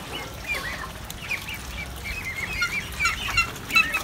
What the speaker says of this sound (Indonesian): Ini adalah kondisi bebek setelah kandangnya dibersihkan.